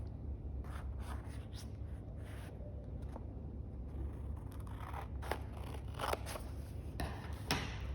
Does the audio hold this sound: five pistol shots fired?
no